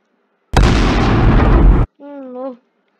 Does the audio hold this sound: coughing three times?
no